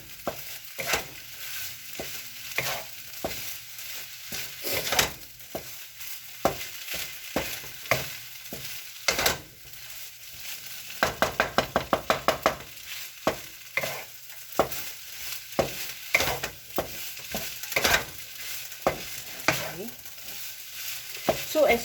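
Shrimp and asparagus fried rice, made with day-old cooked rice, stir-fried over high heat: a steady hot sizzle with frequent close, sharp scrapes and clacks of the utensil against the pan, including a quick rapid rattle of strokes midway.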